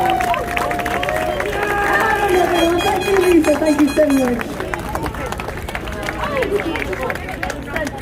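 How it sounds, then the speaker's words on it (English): A large crowd at an outdoor rally in Liverpool claps and cheers steadily, a dense wash of applause with a voice speaking over it partway through. "I want another round of applause for turning up here today."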